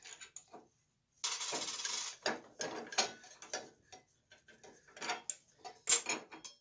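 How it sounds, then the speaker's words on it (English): A wrench works the arbor nut on a saw blade in a workshop, producing a series of close metallic clicks and ratcheting bursts in uneven clusters, with short quiet gaps between them. "that holds it tight so I can get the nut loose or tighten it"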